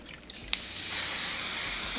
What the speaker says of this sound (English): Take some hairspray, just a little bit.